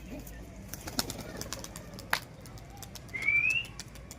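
A pair of domestic Giribaz pigeons coo softly against a quiet background, with a few faint clicks and one short, higher chirp near the end.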